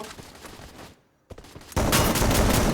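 Rapid bursts of video game gunfire in Free Fire crackle, pausing briefly before a louder, sustained volley of shots takes over.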